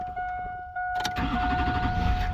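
A GMC 2500 HD 4x4 pickup engine, one that had been cranking without running, turns over briefly and then catches, settling into a loud, steady rumble after a faint electrical whine beforehand.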